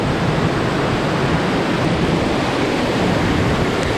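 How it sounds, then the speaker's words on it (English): Steady, loud broadband rush of flowing water, continuous and close, with no pauses or voices. "It's running water."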